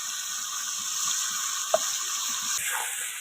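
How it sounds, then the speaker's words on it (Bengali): Chicken pieces and turmeric go into a pan and sizzle steadily, a constant frying hiss with a faint tick partway through and a brief sharp click, close up with no talking. "এবার দিয়ে দিচ্ছি চিকেন গুলো। দিয়ে দিচ্ছি হলুদ।"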